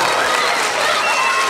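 Audience at a film premiere for an Ice Age 5 screening claps steadily in a dense, continuous burst of applause, close and loud, with crowd noise blended in.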